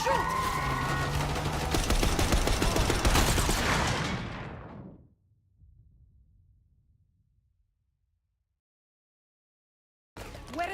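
Rapid bursts of gunfire in the video game Call of Duty Black Ops 6, loud and continuous for about four seconds, then cutting off into a low fading rumble, near silence, and a sudden burst of sound at the very end.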